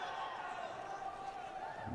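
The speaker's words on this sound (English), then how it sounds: "Crowd starting to chirp for a stalling call." Crowd murmur and scattered calls swell steadily at a Big Ten college wrestling dual between Wisconsin and Nebraska, fans chirping for a stalling call, a continuous mid-level din with no single standout voice.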